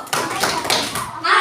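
A primary-school classroom claps out a rhythmic wow clap chant, sharp hand taps and claps repeating quickly with children's voices mixed in throughout.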